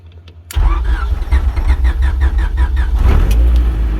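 A car engine cranks over after a quiet moment with the ignition switched on, a rhythmic starter whirr of several turns before catching and settling into a loud, rumbling idle close by.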